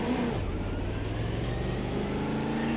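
Stock car engine in the racing game Automobilista 2, a steady loud drone holding a fairly constant pitch throughout with no voices, close and continuous like an onboard view.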